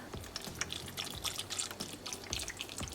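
Liquid pours and splashes into a cooking pot as vegetable broth is added over cooked black beans, a steady trickling wash with small drips and clinks, close and moderately quiet with no talking.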